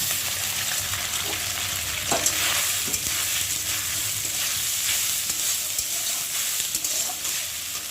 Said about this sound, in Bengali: প্রথমে তেলটা গরম হয়ে গেছে আর এখন আমি সিদ্ধ করে রাখা সয়াবিনগুলোকে দিয়ে ভালো করে ভেজে নেব